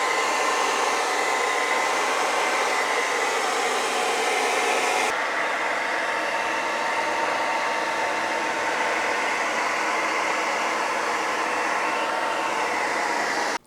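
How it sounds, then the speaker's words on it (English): A hair dryer heat-sealing weather stripping on a cabinet blows steadily and loudly throughout, a constant broadband whoosh that drops slightly in pitch partway through and cuts off at the end. "I'm going to go ahead and use the hair dryer and kind of heat seal it"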